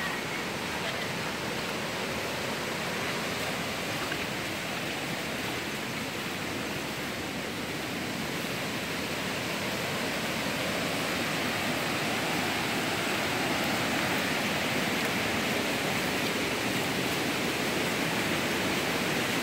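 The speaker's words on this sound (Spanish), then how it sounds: "Vamos a ver por acá si podemos tener alguna toma clara lo que es el río." A rain-swollen river rushes loudly and steadily after heavy rains, a dense, continuous roar of churning water with no breaks, close and filling the scene throughout.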